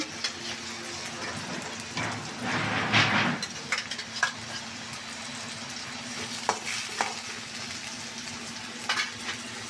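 Shrimp hit a pan of hot oil and fry with a steady sizzle, a louder burst of crackle early on and scattered small pops and stirring taps throughout.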